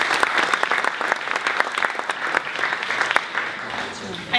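An audience at an evening event applauds. The clapping is dense and steady, close and loud throughout, and a voice speaks over it.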